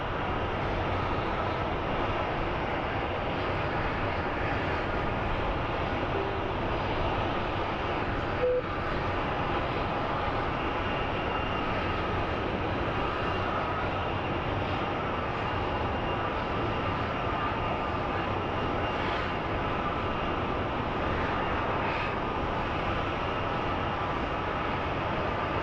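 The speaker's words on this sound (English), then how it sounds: "Our next plane that's arriving is CRJ coming from Long Beach." A CRJ regional jet arrives at Phoenix Sky Harbor airport, a steady broadband jet roar that holds at an even level throughout, with no voices over it.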